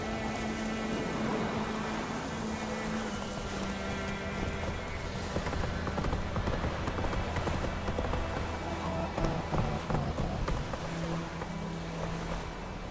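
Horse hooves trotting in The Witcher 3, a steady clip-clop rhythm running the whole time beneath game music and ambient layers, with a rider's voice in the mix.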